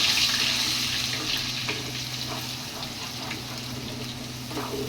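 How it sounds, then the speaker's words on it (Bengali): A spice paste with salt fries in a pan for paneer masala, a steady near hiss with faint scraping and a low hum underneath, fading slightly over time. "এবার আমি ভালো করে মশলাটাকে ভেজে নেব"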